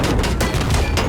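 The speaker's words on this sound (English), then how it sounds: "Why are you shooting at me with the machine gun?" Battlefield 1943 machine gun fire comes as a dense, loud burst of rapid gunfire crackle lasting about a second, heard on its own.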